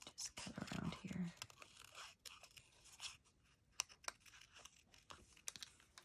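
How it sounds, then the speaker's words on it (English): Scissors snip around a stamped, colored paper shape in quiet, close, irregular cuts and rustles, with a brief soft voice near the start. "Just cut around here."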